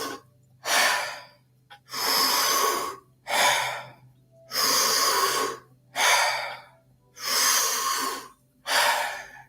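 A person does a deep breathing exercise, taking seven long, loud breaths in even succession, each a forceful whooshing inhale or exhale close to the mic, separated by short quiet pauses over a faint low hum.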